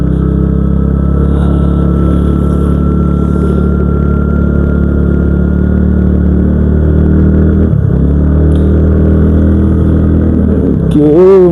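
A pickup engine strains on a rough hill road on the way to a village, a loud, close, sustained labouring drone that dips and surges as it pulls, then revs sharply at the end.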